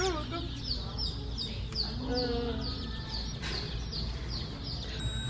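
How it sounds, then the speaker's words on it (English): Baby chicks chirp close by in a steady, repeating run of high, bright peeps over a low background hum, with no speech. "Oh, 5 little chickens."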